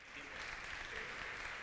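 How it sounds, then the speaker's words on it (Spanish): An audience applauds steadily to welcome the next speaker at a live session of the Aragon Health Sciences Institute, a dense, even wash of clapping lasting the whole moment with a faint voice underneath. "un aplauso para nuestro próximo ponente"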